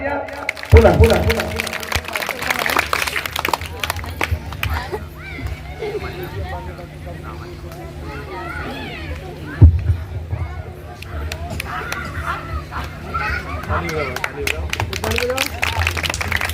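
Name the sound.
audience applause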